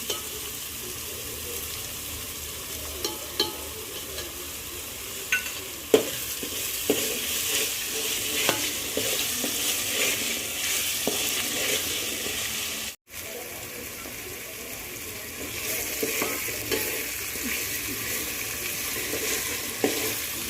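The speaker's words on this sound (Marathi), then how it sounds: "कांदा आपल्याकडे चांगला परतत आलेला आहे त्यातच आपण आले लसूण पेस्ट टाकणार आहोत" Onion and ginger-garlic paste sautéing in an oiled pan for chicken dum biryani, a continuous close sizzle with scraping stirs and occasional soft clicks, briefly cut off once midway.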